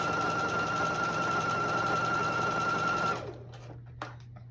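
A sewing machine stitches a dress side seam with a fast, steady, close mechanical whir for about three seconds, then stops, leaving faint handling clicks.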